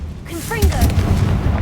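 A Confringo blast spell in Hogwarts Legacy erupts as a fiery boom with a low rumble, tailing off over about a second. A voice sounds over the start of the burst.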